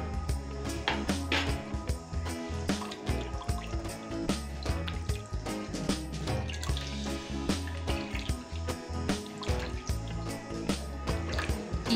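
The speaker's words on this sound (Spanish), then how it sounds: "Y agua para poder amasar nuestra masa." Water poured and dribbled onto flour and salt for quesadilla dough, a steady trickling splash with irregular drips and splatters, close and fairly quiet throughout.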